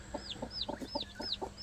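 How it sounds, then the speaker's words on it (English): Chickens kept in an old chicken tractor, clucking in short repeated bursts with a higher chirp-like call recurring above them, fairly close and quiet, with no talk. "So we've got some chickens, so I'm pretty happy about that."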